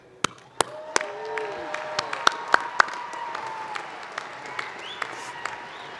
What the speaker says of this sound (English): please rise and let's all join in cheering them